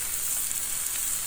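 Half a Vidalia onion with Worcestershire sauce sizzling on a hot griddle, a steady, close hiss of frying that stays even for the whole moment, with no talking.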